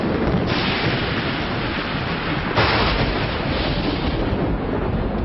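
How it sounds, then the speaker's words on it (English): Rumbling thunder from a lightning storm, a broad sustained roar that swells at the start and again midway, loud and continuous with no talk. "It makes the very air explode, which we hear as thunder."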